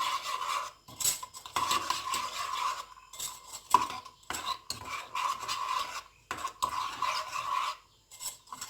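A spoon stirs ground dibek coffee into cold water in a cezve, making a close, continuous metallic scraping and clinking with brief pauses between strokes and no voices.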